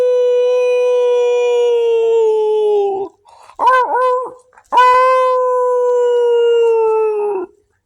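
A voice imitates a werewolf howl: two long, loud sustained wails with a brief wavering vocal break between them.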